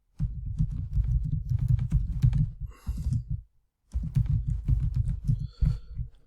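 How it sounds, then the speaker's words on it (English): Quick bursts of computer keyboard typing, steady close clacking, stopping briefly for a short pause and then resuming. "I'll type in something simple,"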